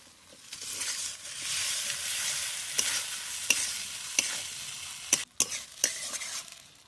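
Duck eggs dropped into frying spice masala, a bright sizzle that builds and holds, broken by several sharp clattering knocks from a utensil near the end, with no speech.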